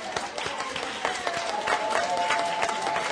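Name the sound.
audience applause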